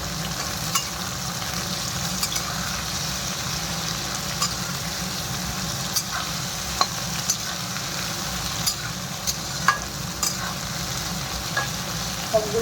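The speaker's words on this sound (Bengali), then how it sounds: "আর এক পিঠ ভেজে নিই এরকমভাবে।" Bori and potato pieces fry in a pan with a dense, constant sizzle and crackle, close and steady, punctuated by occasional sharp ticks and light utensil taps, with no talking.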